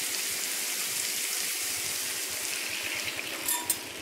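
Water pouring steadily into a cooking pan for rava kichadi, a continuous bright splashing stream with a slight sizzle, close and alone.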